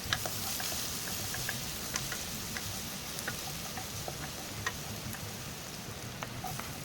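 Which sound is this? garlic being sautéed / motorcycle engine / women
garlic being sautéed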